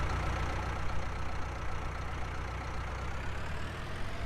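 A Valtra A104 tractor engine in Farming Simulator 19 runs at a steady, close, low-pitched idle, a continuous rumbling drone with no voices.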